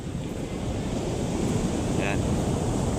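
Heavy typhoon waves churn constantly along the Calintaan shoreline during Typhoon Kristine, a dense roaring wash with wind rumbling against the microphone and a faint voice briefly heard.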